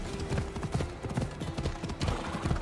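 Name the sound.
horse hooves clip-clopping in Assassin's Creed Odyssey video game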